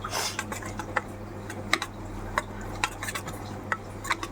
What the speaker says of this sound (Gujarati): હવે એને એક સાઈડે હલાવીશું આ રીતે.